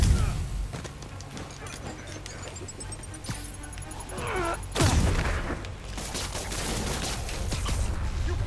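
Cannon fire in the PS4 game Marvel's Spider-Man, heavy booming blasts and rapid bursts over dense game action, loud and close, with someone talking over it.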